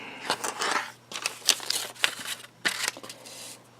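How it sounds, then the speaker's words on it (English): Scissors cut a quarter-inch seam allowance on a quilt piece, a few crisp separate snips and paper rustles, close and fairly quiet. "Then I'm going to put my lip down and cut my 1/4 inch seam."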